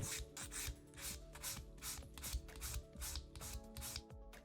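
Repeated rubbing strokes of a nail file on an acrylic nail, shaping a long coffin-style set, a steady close rasping rhythm with no talking.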